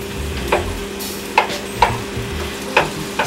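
Shrimp cooking in a pan for pancit, with a steady soft sizzle under a handful of sharp utensil scrapes and clinks spaced irregularly, close and clear, with no one speaking.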